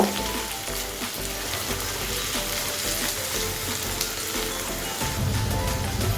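Sliced snake gourd (chichinga) fries in oil in a pan, a steady, moderately quiet sizzle that continues throughout with faint stirring scrapes and no talking.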